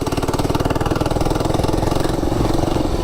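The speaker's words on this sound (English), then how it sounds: "It's just a little 4-stroke. Probably like a Honda clone." A small 4-stroke engine, a Honda-style clone, on a mini bike, running close and loud with a steady rapid putter and a slight rise and fall in revs throughout.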